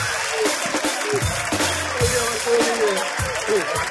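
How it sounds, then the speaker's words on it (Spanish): Audience applause at a live comedy show: steady, dense clapping from the crowd with voices talking over it throughout. "Un fuerte aplauso para ella."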